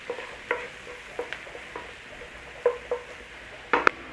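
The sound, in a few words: onion and garlic frying in a pan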